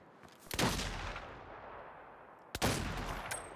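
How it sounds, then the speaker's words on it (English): Enemy gunfire in Saints Row, two loud bursts of shots about two seconds apart, each with a long rumbling decay into the game's ambient backdrop. "Who keeps shooting at me?"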